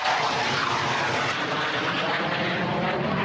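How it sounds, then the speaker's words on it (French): A loud, continuous engine roar from an airplane flying directly over, sustained and even from start to finish, with no one speaking. "Les avions, c'est pas de bol."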